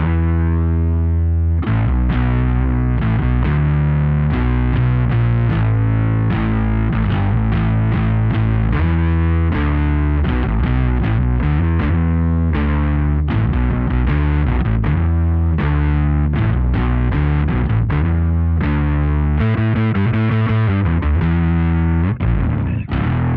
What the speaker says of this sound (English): Now let's put it into series, meaning we'll be applying distortion to the octave tone.